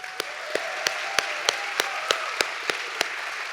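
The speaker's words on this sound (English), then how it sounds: "let's give them all a group applause" An awards-show audience applauds colleagues, producing a dense, steady wash of clapping with evenly spaced, sharper beats running through it, as if part of the crowd claps in rhythm.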